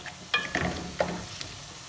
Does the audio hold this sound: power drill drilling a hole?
no